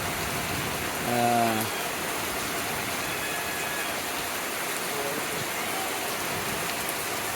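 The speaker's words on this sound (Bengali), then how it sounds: "মুষলধারে বৃষ্টি সারাক্ষণ" Heavy torrential rain pours steadily in Cox's Bazar, a dense continuous hiss that stays even throughout, with a brief low engine-like hum rising near the start before fading back under the downpour.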